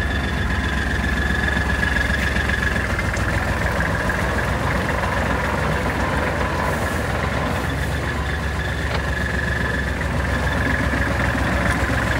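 A Kubota GL21 tractor with a three-cylinder engine, imported from Japan, runs at a steady idle nearby, giving a continuous chugging drone with no talk over it.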